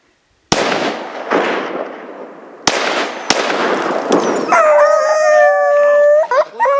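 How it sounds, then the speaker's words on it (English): Several sharp, loud hunting rifle shots crack and echo outdoors, then hounds break into long, wavering howls close by. "Andy knew how the dogs would react to the shot"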